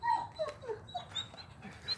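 A dog whimpers in a series of short, high, wavering whines near a chicken coop, fairly faint against quiet background.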